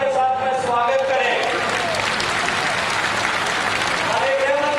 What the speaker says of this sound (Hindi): आप सबसे अनुरोध करूंगा जोरदार तालियों के साथ में स्वागत करें